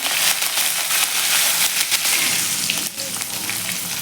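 Cumin seeds, asafoetida and curry leaves hitting hot oil for potato patties, giving a loud, continuous crackling sizzle with sharp pops throughout, close up and without talk.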